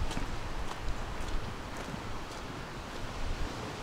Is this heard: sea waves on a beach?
yes